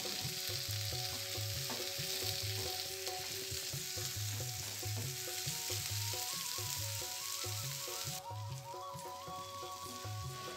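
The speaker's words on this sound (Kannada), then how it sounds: "ಟೊಮೆಟೊ ಸ್ವಲ್ಪ ಸಾಫ್ಟ್ ಆಗಬೇಕು, ಮೆತ್ತಗಾಗೋವರೆಗೂ ನಾನು ಫ್ರೈ ಮಾಡ್ಕೊಳ್ತೀನಿ" Chopped tomato frying in a pan for a bottle gourd curry, with a constant dense sizzle and steady rhythmic stirring throughout, close and fairly loud, with no speech.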